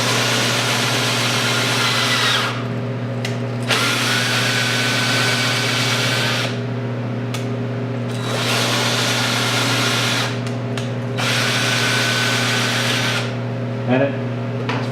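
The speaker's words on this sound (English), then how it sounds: "What you do is you chuck this thing into a drill" A cordless drill spins a socket tool fitted over a wheel nut, giving a steady close-up whir in several bursts with short pauses between, while someone talks over it.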